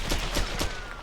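Rapid gunfire from a weapon in the video game Ghost Recon Advanced Warfighter sounds as three quick, loud, close shots in about a second, with no talking.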